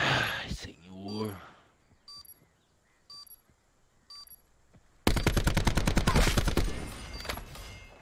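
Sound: gunfire in video game Call of Duty Black Ops 4

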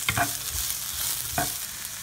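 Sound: stir-frying carrots in a pan for curry udon

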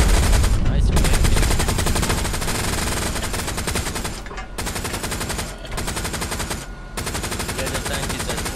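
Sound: tank firing in the video game Hell Let Loose

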